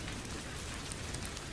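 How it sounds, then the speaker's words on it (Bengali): Heavy cartoon-style rain pours steadily and loudly, a dense unbroken hiss of drops with no voices over it. "বৃষ্টির গতি ক্রমশই বেড়ে যাচ্ছে"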